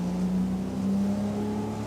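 A racing motorboat with Mario Pagozzi at the wheel drones steadily past during a San Gervasio ProAm event, its engine a loud, sustained tonal hum with a slight waver, heard alone without voices.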